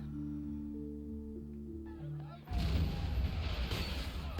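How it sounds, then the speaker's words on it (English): Soft music gives way to a sudden loud barrage of video game gunfire mixed with tables and chairs crashing and clattering, dense and continuous to the end. "Gunfire and the sound of tables and chairs getting knocked over intermingle"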